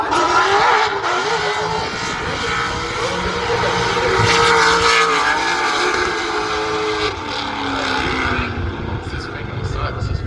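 Drift car engines at a drift festival, a loud sustained roar with rising and falling revs as cars slide around an exclusion area, heard under a commentator's voice and crowd noise.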